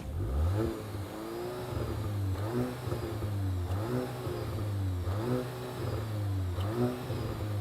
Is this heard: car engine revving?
yes